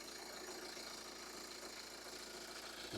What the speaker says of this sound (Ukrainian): Прислухайтесь, як працює двигун.